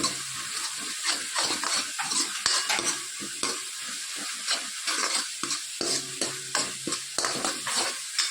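A spatula stirs chole masala in a pan, steady sizzling under a string of close scraping and knocking strokes that come in quick irregular bursts, with no voices.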